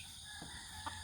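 A rooster crows faintly in the distance, its brief calls rising in short bursts over a quiet farmyard background, with no talking.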